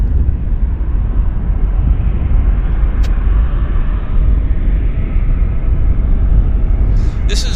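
An Air Canada Boeing 777-300 jet at Vancouver airport gives off a continuous loud, low, rumbling roar that stays steady throughout.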